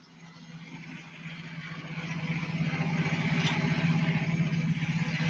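A car engine runs steadily and grows slightly louder, a low continuous hum with a mid-range drone and no talk over it.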